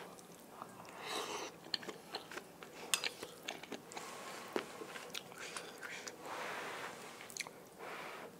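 Someone eats tofu skin (fuzhu) in Sichuan mala instant noodles, with close, soft chewing and repeated small crunchy bites. The sounds are faint and irregular, with no speech.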